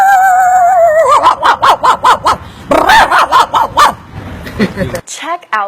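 A man mimics a small dog with his mouth, giving two quick bursts of realistic yappy barks and yips, close and loud, then a short whine at the end.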